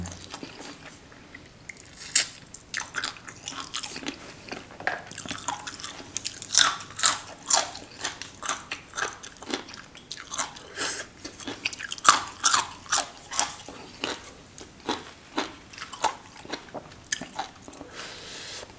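Close, crunchy chewing and biting of a spicy Thai chicken feet salad, with repeated wet crunches and smacks in an irregular rhythm that keeps going steadily without talk.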